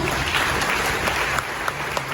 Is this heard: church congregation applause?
yes